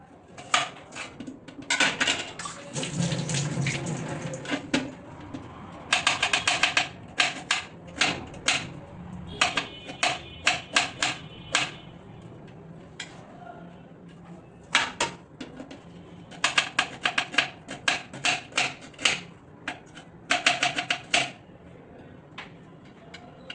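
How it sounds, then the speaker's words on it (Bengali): An onion being chopped finely with a knife on a board, rapid bursts of crisp close taps in uneven runs with short pauses between them. "প্রথমে একটি পেঁয়াজ কেটে নিব তো গাইজ পেঁয়াজ কুচি কুচি করে কেটে নিব"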